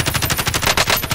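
Rapid gunfire in Call of Duty Warzone, a dense burst of loud, closely spaced shots running throughout with no talk.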